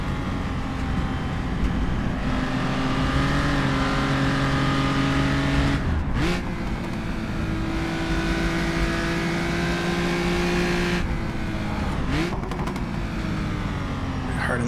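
Onboard a historic race car on the Dundrod road circuit, the engine drones steadily close-up, climbing through gears with two sharp shift breaks, holding a loud continuous roar throughout.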